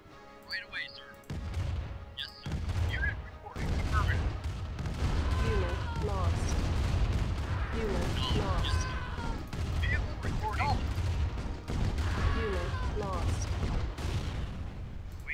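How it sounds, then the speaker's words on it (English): Artillery and rocket fire in Command & Conquer Remastered, with repeated booming shots and blasts piling into a steady barrage of battle noise, over unit acknowledgement voices and a player talking. "We'll have the artillery and the rocket guys handle it."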